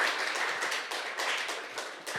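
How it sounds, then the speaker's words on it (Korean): Brief applause from a talk-concert audience welcoming a speaker, a full burst of many hands clapping close and steady before tapering slightly. "여러분 큰 박수 부탁드리겠습니다"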